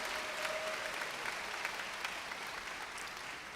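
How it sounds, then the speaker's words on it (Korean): An audience at a youth speech event in a church setting applauds a speaker, a dense, even wash of clapping held at a steady level throughout, with no talking. "다시 한번 우리 박지선 한솔이에게 큰 박수 부탁드리겠습니다"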